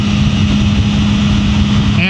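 A 2024 BMW M1000R motorcycle with the M Competition Package roars under power in a steady, loud, unbroken drone with a low hum and heavy rushing noise throughout.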